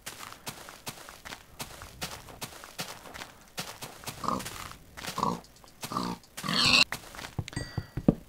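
Pig grunts and oinks in Minecraft, short bursts repeating over scattered game footstep taps and clicks, moderately loud with no talking.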